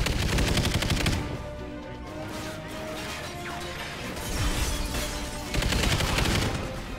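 Dense, loud automatic gunfire from Call of Duty: Ghosts, with a sustained burst at the start, a brief lull carrying other game sounds, and then another long, rapid volley near the end.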